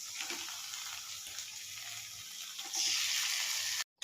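Taro leaves hitting a hot pan with a fried hilsa fish head and cooked-down spice paste, giving a steady loud sizzle that surges brighter near the end before cutting off briefly.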